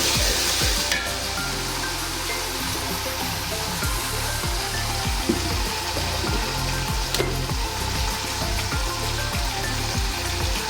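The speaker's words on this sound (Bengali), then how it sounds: "আদা রসুনটা তেলের মধ্যে একটু ভাজা ভাজা করে নিলে কাঁচা গন্ধটা চলে যায়" Ginger and garlic frying in hot oil for a prawn and vegetable curry, a loud continuous sizzle with repeated stirring scrapes throughout, no talking.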